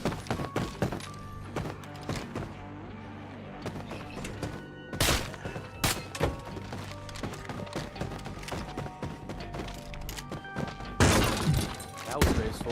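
Shotgun blasts in the survival video game State of Decay 2, several sharp booming shots spaced irregularly among thuds and game noise, with a person talking in between.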